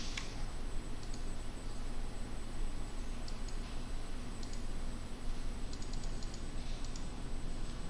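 Computer keyboard keys pressed for a Ctrl+Enter shortcut give a few sparse, faint clicks over a steady electronic hum, heard close, with no one talking.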